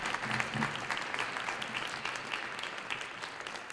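Quiet, steady audience applause at a California education policy event, a continuous patter of many hands heard from a distance without voices.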